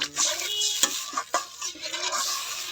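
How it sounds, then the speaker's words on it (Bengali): Spice masala frying and being stirred in a pan, a steady close sizzle broken by several sharp scraping strokes of the spoon against the pan. "মশলাটা কতটা সুন্দর কষাই নিচ্ছে"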